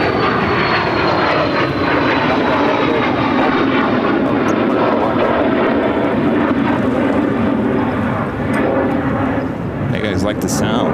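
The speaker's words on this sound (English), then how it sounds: "This is a private jet headed to Amarillo. It's a Cessna 525C citation." A Cessna 525C Citation private jet at Phoenix airport gives a loud, continuous engine roar with a steady broadband rush and a faint whine, sustained throughout, with talk audible over it.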